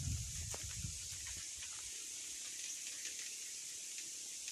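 River water flows steadily past a coconut-lined bank, a constant bright rushing hiss with some low splashing at the start, fairly faint and with no voices.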